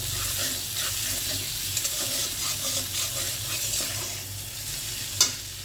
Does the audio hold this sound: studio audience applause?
no